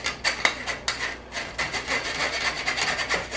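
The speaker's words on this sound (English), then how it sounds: "I usually like to just take a spoon and finish scraping through our sieve." A metal spoon scrapes cocoa and dry crust ingredients through a sieve in a home kitchen for a keto chocolate peanut butter pie crust, giving a close, steady run of rasping strokes with a few sharper taps near the start.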